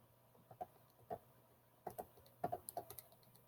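Calculator keys are tapped by hand in an uneven run of about a dozen quiet clicks, some in quick pairs, with short pauses between.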